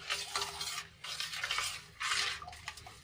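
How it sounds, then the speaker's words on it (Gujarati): Three bursts of brisk stirring swish and clink in a container as soap is dissolved to make homemade dishwashing liquid, separated by short pauses, close and fairly quiet. "આ રીતે હલાવીને સાબુને આપણે સારી રીતે ઓગાળી લઈશું"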